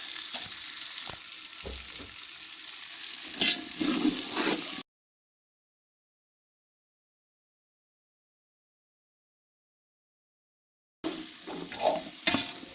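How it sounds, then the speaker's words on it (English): Fried rice with green pepper being stirred in a pot, a soft scraping and sizzling that breaks off into a long silence partway through and then returns. "I'll add my green pepper here. And I'll stir the pot."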